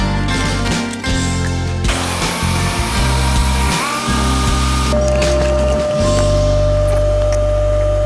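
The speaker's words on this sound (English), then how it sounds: "do you want to drill the rest of them?" A drill bores half-inch holes in A2 tool steel in a workshop, giving a sustained loud grinding whir that shifts pitch as the bit cuts, with brief changes in load partway through.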